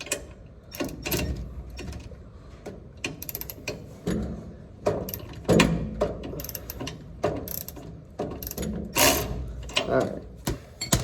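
A ratchet wrench tightens a bolt on a Speed Engineering traction bar during installation, with rapid close clicking pawl strokes in repeated bursts alongside some handling clatter.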